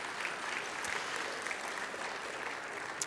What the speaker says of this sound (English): you should all honestly give them a round of applause for the amazing work that your team does for you